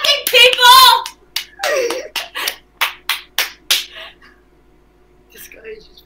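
A voice calls out briefly, then a few sharp claps ring out one after another, close by and slowing before fading into quiet.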